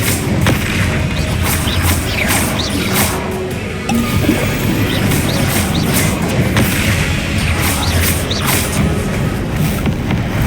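Confringo explosive spell blasts in Hogwarts Legacy, heard as a continuous dense barrage of booms, crashes and thuds with sharp impacts, loud and close, amid game combat noise.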